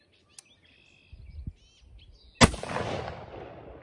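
One loud, sharp unsuppressed rifle shot from a Remington CP in 6.5 Creedmoor, fired outdoors, with a long rumbling echo trailing away; faint bird chirps sound beforehand.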